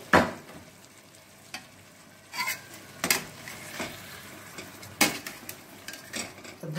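Salted potatoes stirred in a pan, with irregular clanks and scrapes of a spoon against metal over a faint sizzle, no talk.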